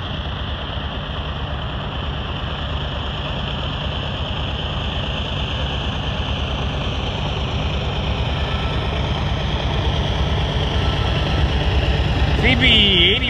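A steady, heavy rumble of a westbound Green Line train arriving at Kipp station, constant low engine drone filling the whole stretch, with a brief higher squeal near the end.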